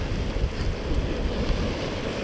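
Ocean waves and wind on a beach at Knokke-Heist on Belgium's coast, a dense, continuous roar of surf and gusting wind buffeting the microphone, with no voices.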